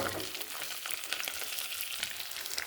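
Ground turmeric, chili, cumin, coriander and garam masala powders frying in oil in a pan for cauliflower curry, giving a close, dense sizzle with light stirring scrapes.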